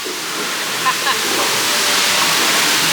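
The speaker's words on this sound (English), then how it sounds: "We got this nice little water feature." A water feature on the Rainforest Cafe water ride in Galveston, Texas sprays in a loud, continuous rushing hiss close by. A faint voice can be made out briefly underneath.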